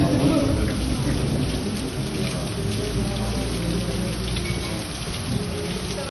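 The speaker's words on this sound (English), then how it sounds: "this day there was so terrible and rainy and windy weather." Heavy rain pours steadily while wind roars in a constant wash of noise, with no letup from start to finish.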